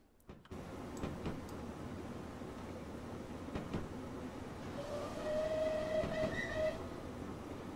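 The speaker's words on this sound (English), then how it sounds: "That's a very cool whistle." A steam locomotive whistle on the Merchant Navy class Clan Line in Train Simulator 2020 sounds a sustained tone of about two seconds over the steady rumble and clatter of the moving train, with no talk.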